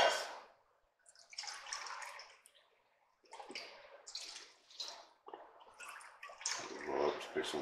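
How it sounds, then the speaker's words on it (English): Beef broth poured into a pot for braised beef short ribs, heard as several bursts of splashing, gurgling liquid separated by short pauses, fairly close and with no one speaking over it. "now we're going to add in about 3 cups of beef broth"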